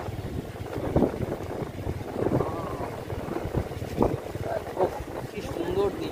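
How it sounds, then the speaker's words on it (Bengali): Wind gusts across the microphone beside the Canning river in an open outdoor setting, a low rumbling buffet under people talking throughout. "সেই সুন্দর হাওয়া আসছে"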